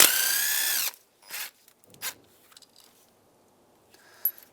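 A power tool runs in a loud whirring burst and then stops. Short ratcheting clicks and clunks follow as fuel rail bolts come out of a 2007-2015 Mazda CX-9 engine.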